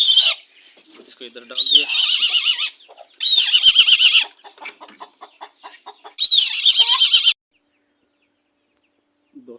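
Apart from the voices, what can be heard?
hens clucking in a coop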